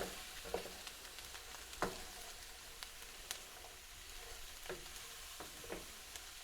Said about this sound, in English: Give it a wee stir.